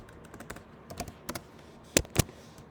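Someone types code on a computer keyboard, with scattered key taps at an irregular pace and two louder, sharper strikes near the end, close by and with no voices.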